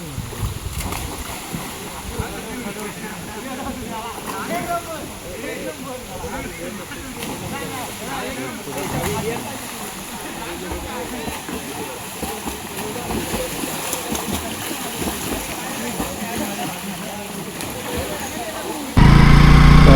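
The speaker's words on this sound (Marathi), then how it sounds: "तर मोठं पाणी आहे." A large stream of flowing water outdoors near a village, a broad continuous rushing roar with splashing texture throughout, steady and fairly loud.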